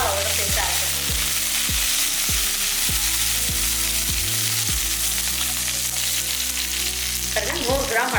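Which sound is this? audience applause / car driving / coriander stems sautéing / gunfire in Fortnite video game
coriander stems sautéing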